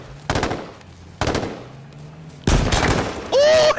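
Gunfire in H1Z1 battle royale: three loud, sharp bursts of shots spaced about a second apart, the last followed by a ringing tone, with a voice faintly under them.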